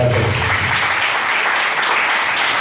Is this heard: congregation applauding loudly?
yes